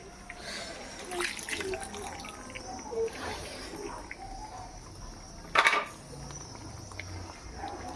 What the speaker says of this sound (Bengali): এবার আমি একটু এর মধ্যে জল দিয়ে দেবো।